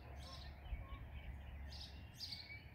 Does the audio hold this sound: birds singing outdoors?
yes